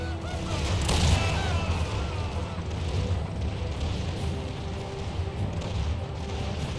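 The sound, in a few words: artillery fire in Empire 2 mod video game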